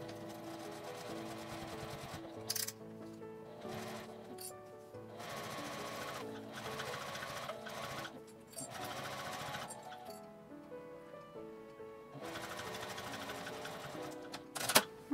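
A sewing machine stitches along the end of a zipper in close, rapid mechanical whirring runs, stopping and restarting several times with short pauses between bursts.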